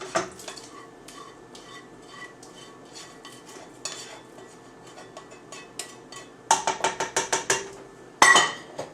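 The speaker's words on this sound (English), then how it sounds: "I'm going to take those and I'm also going to dump those in the pot." Softened onions tipped from a pan into a soup pot for potato soup, a string of close metallic clinks and scrapes, with a louder burst of rapid clattering near the end and a sharp knock just after.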